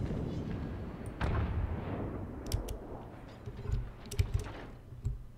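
Warship turret gunfire in the video game World of Warships, deep booming salvos with rumbling tails, one heavy shot early followed by several lighter thuds and pops.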